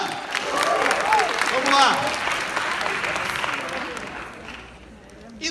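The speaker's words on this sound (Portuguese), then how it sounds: "Uma salva de palmas ao seu amigo que entendeu agora?" Sustained applause from a large audience at a Jeunesse Global training event in a theatre, dense clapping with crowd noise, while someone talks over it and whistles and cheers rise near the middle before the clapping thins toward the end.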